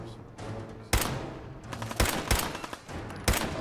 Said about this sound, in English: Let's try it with a pipe pistol